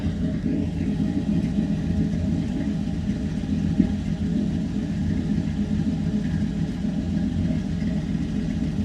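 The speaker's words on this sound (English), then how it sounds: "Exhaust just sounds awesome." A 1970 Chevy C10 long-bed pickup with a Blueprint crate V8 and automatic transmission idles with a deep, steady exhaust rumble, close and continuous, with no talk.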